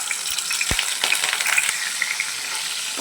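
Salted dried fish pieces splutter in hot oil in a pan, a dense, continuous crackling sizzle with a few heavier pops, close and fairly loud throughout.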